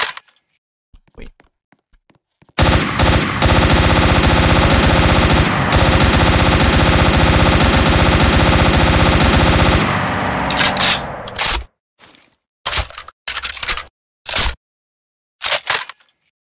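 AK rifle fire in a video game rips out as one long, loud automatic burst of about seven seconds, then breaks into several short, scattered bursts and single shots separated by silence.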